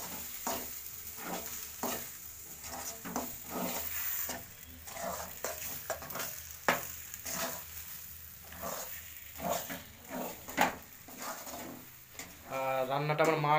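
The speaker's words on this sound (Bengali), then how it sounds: "ভালো করে এটা মিক্সিং করে নাড়তে হবে অনেকক্ষণ ধরে।" Green pea filling for kachori being stirred in a pan, with scraping strokes and a soft sizzle repeating steadily at close range, no one talking.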